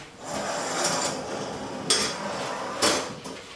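Near a kitchen oven, a couple of sharp metallic clunks ring out over a constant hum, like a door being shut while baking brioche, with some scraping and rubbing between them and no speech.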